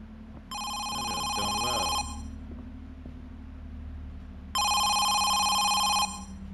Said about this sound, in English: I thought it was a phone upstairs.